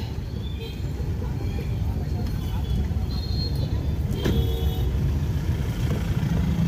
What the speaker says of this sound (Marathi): किती लांबपर्यंत लाईनीन सगळं ट्रॅफिक जाम झालेलं आहे.